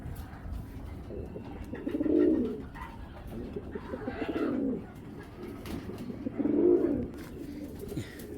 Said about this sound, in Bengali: একদম টানা ঝুটির কবুতর মার্শাল্লাহ